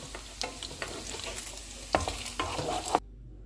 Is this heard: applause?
no